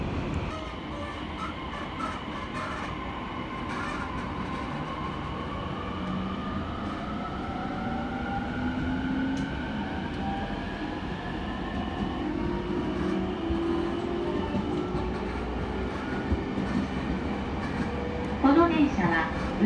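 A local train on the Utsunomiya Line bound for Omiya, running with a steady, dense rumble from inside the carriage and rising and falling motor whine, with a few brief clanks near the end.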